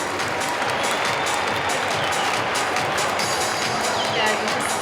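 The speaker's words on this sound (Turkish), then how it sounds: "Sahneye davet ediyorum. Alkışlarınızla Sinan Bey'i" A large audience at the Turkvision 2013 international song contest applauds steadily, a dense, even wash of clapping and crowd noise that holds at full strength for about five seconds.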